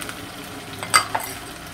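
Garlic, ginger and green chili paste frying and being stirred in a pan for a fish curry: a faint, soft sizzle with a couple of quick utensil clinks near the middle, and no talking.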